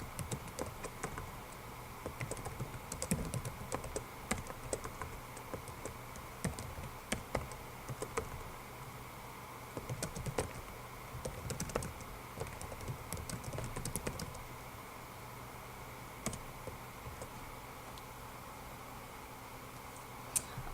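Steady computer-keyboard typing, close and fairly quiet, with bursts of clicking keystrokes continuing alone over a faint background hiss.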